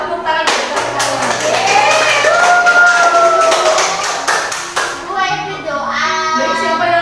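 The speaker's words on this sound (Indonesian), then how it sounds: "Nah, tepuk tangan untuk kalian." Primary schoolchildren in a classroom clap in unison, a sustained busy patter of small hands close by, mixed with children's voices and chatter throughout.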